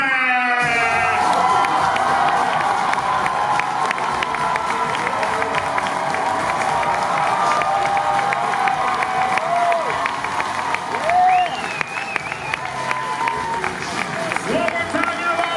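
A large crowd cheers, whoops and applauds at a cosplay championship at New York Comic Con, a loud sustained roar of clapping and shouts with an announcer's voice over it throughout.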